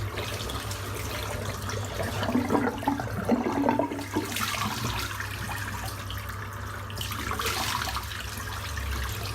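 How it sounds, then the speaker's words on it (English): Water gushes steadily from a tap into a sink, a continuous rushing splash that swells briefly midway, close by with no talking. "I'll use a bit of hot water just to heat my hands up here."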